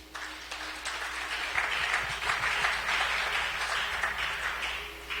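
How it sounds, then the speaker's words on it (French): A congregation applauds at a church service, broad sustained clapping filling the room steadily for several seconds without pause. "Acclamons la parole de Dieu."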